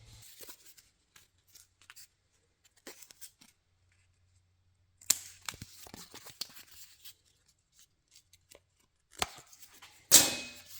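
Edges are cut off a car motor mount piece for a Crown Vic swap: sparse sharp snips and clicks, then two louder harsh cutting bursts near the end, in an otherwise quiet room.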